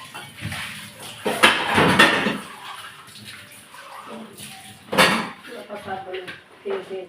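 Clattering pots and dishes being scrubbed and rinsed, with bursts of running water and clinks, while people talk in the background.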